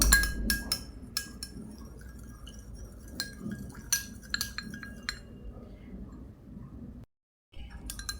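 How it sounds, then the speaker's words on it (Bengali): A utensil stirs an aloe vera serum mixture in a glass bowl, giving repeated light clinks and ticks against the glass, quiet and close, with a brief silent gap near the end. "এটাকে খুব ভালো করে মিশিয়ে নিবে এভাবে মিশিয়ে নিবে"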